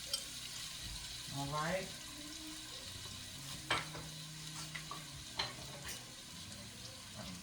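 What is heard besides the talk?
onions sizzling as they go into the pan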